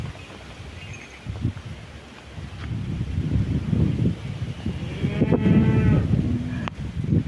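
Cattle moo on a farm in strong wind, low drawn-out calls building in the second half over steady wind rumble against the microphone.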